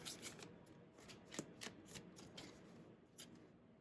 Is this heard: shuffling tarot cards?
yes